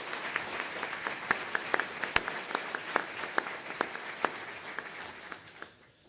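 Audience applauding at a graduation ceremony in Iceland, a steady even patter of many hands with a few sharper nearby claps, fading out at the end.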